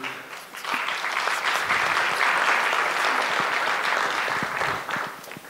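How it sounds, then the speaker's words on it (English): Sustained applause from a crowd for a panel at a talk, steady and fairly loud, swelling quickly and tapering off at the end. "a round of applause for the, for the table"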